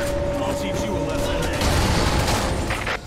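Weapons fire at a mothership's giant cannon in Earth Defence Force 5, a dense, loud barrage of blasts and rumbling impacts that runs continuously through the short stretch, with no talk.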